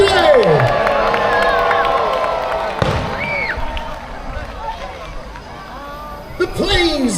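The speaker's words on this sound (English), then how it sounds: "Let's have a cheer, everybody!" A crowd at a Peasholm Park naval battle show in Scarborough, North Bay, cheers and shouts at moderate distance, rising in bursts with children's voices mixed in, along with sharp bangs and whistles and an announcer talking over it.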